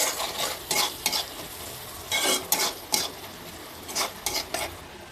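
Chili and onion fry in a pan with a steady close sizzle, broken by repeated scraping bursts of a spatula stirring against the pan, with no talking.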